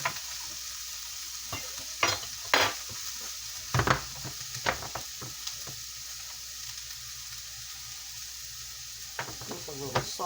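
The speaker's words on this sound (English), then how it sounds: "We're only going to saute for a few minutes." Stuffing sautéing in a hot pan gives a steady sizzle throughout, broken by several sharp scrapes and knocks of a utensil stirring against the pan.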